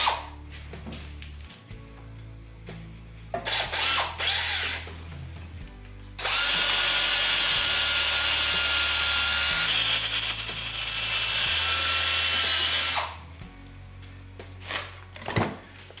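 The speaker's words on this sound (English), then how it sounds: "use that bushing in the tailstock to guide this drill bit" A drill bit on a lathe, guided by a bushing in the tailstock, whines steadily for several seconds, with quieter clunks and handling noises before and after.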